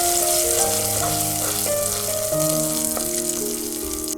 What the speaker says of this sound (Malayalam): ഇതിലേക്ക് നമ്മൾ അരച്ച് വെച്ച പേസ്റ്റ് ചേർത്ത് കൊടുക്കാം. എന്നിട്ട് നന്നായി ഒന്ന് വഴറ്റി കൊടുക്കാം.